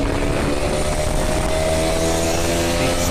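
A TVS Apache RTR 160 4V motorcycle pulls in second gear, its engine droning loudly and steadily beneath a strong rush of wind, heard up close from the rider's position.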